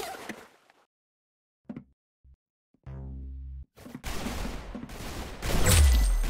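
Gunfire in the Roblox game Arsenal on the aircraft map. Several distinct shots are heard with quiet gaps between them, then a longer dense burst of rapid firing near the end, all close and fairly loud with no talking.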